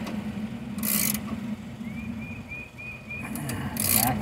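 A ratchet turns a Napa spark plug thread chaser in a stripped spark plug hole, with short metallic clicking bursts near the start and end over a steady low background rumble.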